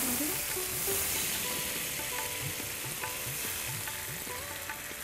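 Prawns frying in a hot pan for chingri malai curry with a splash of water added, a loud continuous hiss and sizzle with repeated close spatula scrapes and soft knocks, and faint talk in the background.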